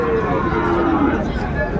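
A Sahiwal bull calf at a cattle market gives one long, loud, nearby moo, with market voices murmuring underneath.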